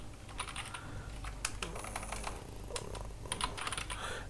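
Someone types on a computer keyboard while working in MS Excel, producing quick irregular bursts of close, soft key clicks with brief pauses between them.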